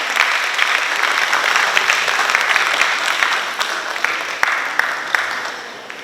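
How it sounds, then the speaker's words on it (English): Steady, loud applause from an audience at an Education Day ceremony as a school's teachers and principal come forward, with dense clapping that fades slightly toward the end. "Let us applaud the teachers and principal as they come forward."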